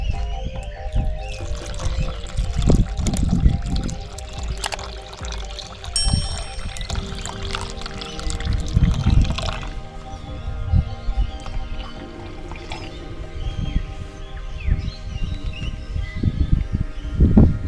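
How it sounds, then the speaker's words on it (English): Water, 300 grams, poured into a bowl for sourdough dough, a steady trickling splash with a few clinks of the container, close and moderately loud with no talking. "300 grams of water."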